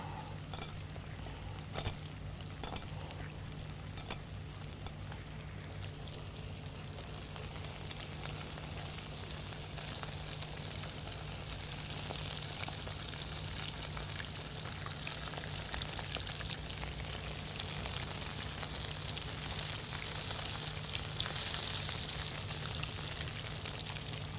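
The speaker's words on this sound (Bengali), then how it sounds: "নুন দিয়ে মচমচে করে ভেজে নেবেন তেলে" Rui fish frying in hot oil with salt, a steady dense crackling sizzle that runs unbroken and fairly close, with a few sharper pops early on and no talking.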